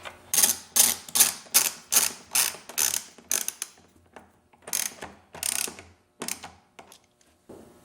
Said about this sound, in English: We're going to be using a 10mm socket.